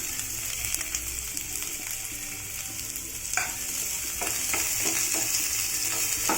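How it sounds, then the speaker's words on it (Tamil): Onions sauté in oil in a pan for beetroot chutney, with a steady close sizzle, scraping and clinking from stirring, and a faint rhythmic mechanical hum underneath. No one speaks. "இதுலயே இன்னும் கொஞ்சம் ஆயில் விட்டுக்கலாம். வெங்காயத்தை போட்டு வதக்கலாம்."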